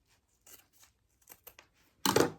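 Sewing scissors trim fabric while a crossbody bag is being made: a few soft snips, then one louder, close cut at the end.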